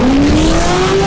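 A Chevrolet and a BMW launching in a drag race final, a loud, dense roar of engines with a rising revving tone across a brief second, close and without talk.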